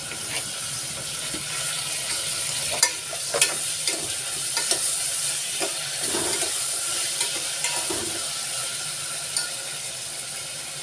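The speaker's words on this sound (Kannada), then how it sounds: "ಇಲ್ಲಿ ಟೊಮೊಟೊವನ್ನು ಸೇರಿಸ್ಕೊಳ್ಳೋಣ" Tomatoes go into a sizzling pan for avarekalu bath and are stirred, giving a steady frying hiss broken by scattered spoon scrapes and clicks, moderately close with no talk.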